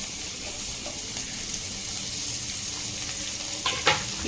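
Onion and green chili sauté in a pan, a steady, close hiss of sizzling oil throughout, with a couple of brief scraping stirs near the end.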